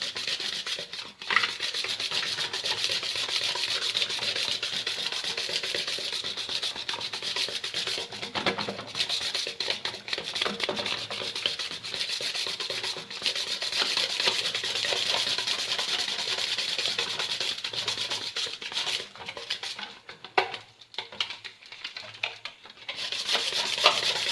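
Powdered sugar being stirred into banana cake batter in a bowl, a close continuous scraping and rubbing that keeps up without a break and thins out briefly near the end.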